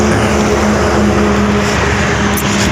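A Ducati Panigale 959 fitted with an Austin Racing exhaust runs steadily at close range, its loud engine holding a constant drone with no clear revs or pauses.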